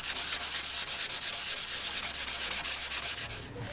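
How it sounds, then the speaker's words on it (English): Hand sanding with 120-grit sandpaper on rusty metal of a classic car, rapid rhythmic back-and-forth scratching strokes close by, steady and alone before stopping. "You want to sand down this metal and scuff up whatever paint is around it."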